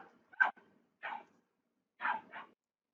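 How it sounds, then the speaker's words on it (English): A dog barking at a bird lets out four short, sharp barks, the last two in quick succession, heard at moderate distance in an otherwise silent room. "My dog is barking at a bird while recording this video."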